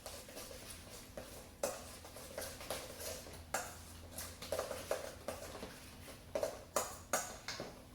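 A spoon scrapes and knocks against a bowl while chickpea salad is stirred with vegan mayonnaise, giving repeated soft clinks and taps in a steady, close rhythm.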